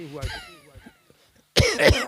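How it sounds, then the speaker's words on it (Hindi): Someone speaks briefly, then coughs twice, harsh and close, near the end, during a yoga breathing exercise. "हो सकता है दबाव आते समय आपको खांसी आए।"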